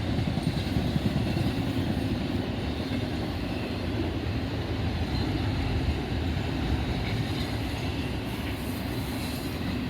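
A freight train carrying IRC container cars rolls steadily past in Oak Harbor, Ohio, heading west, with a loud, continuous rumble and clatter of wheels throughout.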